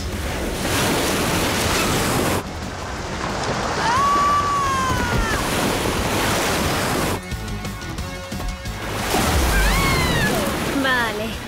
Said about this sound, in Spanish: hay un grifo abierto